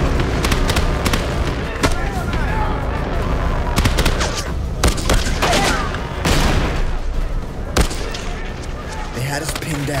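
Dense gunfire and explosions from a battle at a military firebase, loud and continuous with overlapping shots, bursts and booms throughout, under chaotic combat noise.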